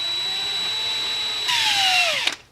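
A 3.5 mm drill bit cuts out the rivets on a Tomica Honda Prelude die-cast toy car, a steady high whine that rises and strains as the bit bites, then winds down abruptly, loud and close with no talking.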